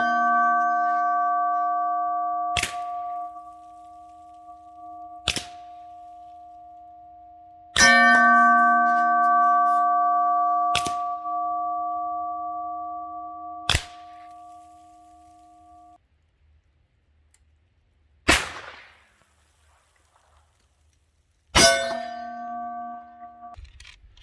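A lever-action rifle fired downrange: seven sharp reports spaced a few seconds apart, each followed by a sustained metallic ringing that slowly decays, with quiet stretches between and no talking.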